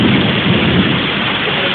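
Thunder rumbles through a heavy rainstorm in Juana Díaz, Puerto Rico, a loud, dense wash of pouring rain with low rumbling underneath, continuous and close, with no voices.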